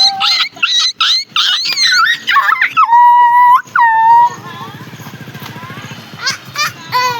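Several children imitate a puppy's barking and whining, with shrill yelps, short whimpers and a few long drawn cries following one another, mixed with breathy sounds and some laughter nearby.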